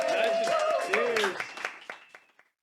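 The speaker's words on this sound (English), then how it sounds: "another round of applause for Mark Hegan" Applause from a live studio audience, with speech-like tones over dense clapping that thins into scattered claps and fades out.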